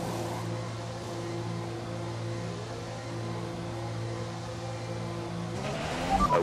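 An F1 race car in F1 2021 idles low and steady, with a rising engine note climbing at the end as it pulls out of the pit exit.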